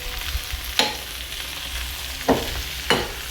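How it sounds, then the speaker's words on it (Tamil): A vegetable poriyal stir-fry sizzles softly in a pan, with three distinct scraping stirs spread across the moment. "கொஞ்சம் இவ்வளோ போட்டுட்டு கிளறி விட்டு லைட்டாக கிளறு"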